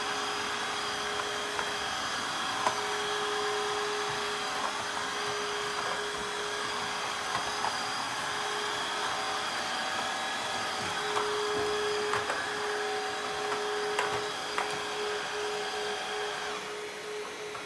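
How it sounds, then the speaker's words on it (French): A wet-dry vacuum cleaner washing and vacuuming a floor, a steady loud whining motor hum running throughout with faint brushing and rolling noises, no talking. "Il va laver et aspirer en même temps."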